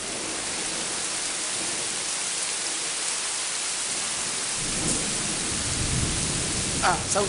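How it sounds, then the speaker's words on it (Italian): Summer thunderstorm in Quartu Sant'Elena, Sardinia: steady broadband rain hiss throughout with a deep rumbling roll of thunder building in the second half, close and loud. "Saluta tuono, saluta."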